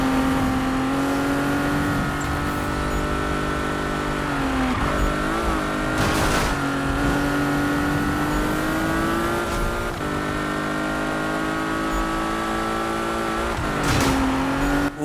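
A race car in Need for Speed keeps its engine roaring loud and steady, the pitch climbing through each gear and dipping briefly at every shift, with a few short bursts of tire noise.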